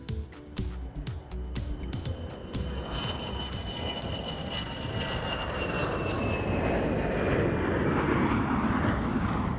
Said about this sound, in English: if your kids like to watch the planes take off and land like my kids do